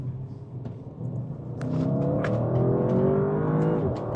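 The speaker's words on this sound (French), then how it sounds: "Ah, on s'est bien promené, maintenant on va bien accélérer." Audi RS6 accelerating hard from inside the cabin: a steady low engine rumble swells into a loud, rising rev with climbing harmonics, continuous and close, with no talk over it.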